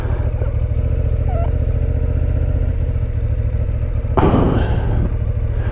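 A 2024 Honda Hornet 750 motorcycle idles while warming up, a steady low engine rumble throughout with a short burst of clatter near the end.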